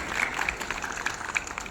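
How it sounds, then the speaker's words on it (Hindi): An audience at a dance celebration claps for a performer, a short burst of moderate scattered applause with distinct hand claps rising and falling over a couple of seconds. "एक बार जोरदार तालियां उनके लिए होनी चाहिए।"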